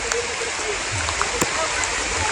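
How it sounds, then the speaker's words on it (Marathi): Monsoon rain showers fall on a jungle trek to Dudhsagar Waterfall in Goa, making a dense, loud, continuous hiss with faint speech mixed underneath. "या आत्ता पावसाच्या ज्या सरी आहेत त्याच्यामध्ये सर्व खूप पाणी येतात"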